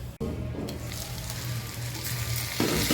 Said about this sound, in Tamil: நம்ம விட்டுருக்க எண்ணெயிலே தான் இது வெந்து வரும்